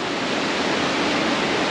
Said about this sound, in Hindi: जितना भी पानी है सब ऊपर ग्लेशियर से आती है